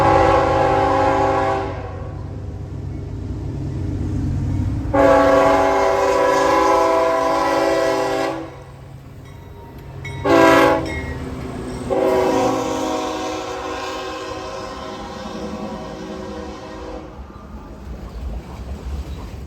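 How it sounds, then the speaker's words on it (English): CSX M427 southbound freight manifest train passing in Haverhill, Massachusetts, with a loud, close multi-tone horn sounding in several long blasts over the rumble of the engine, then steady rolling wheel noise of passing cars. "CSX M427, the daily southbound manifest from Portland, had stopped in Dover."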